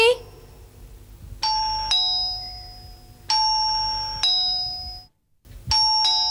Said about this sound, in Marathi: जोपर्यंत दरवाजा उघडत नाही तोपर्यंत बेल वाजवत राहतो